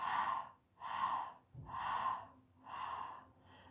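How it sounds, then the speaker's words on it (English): Slow, steady breaths in and out through the mouth during a morning meditation breathing exercise, four long airy breaths close to the microphone with short gaps between them. "Exhale at the mouth."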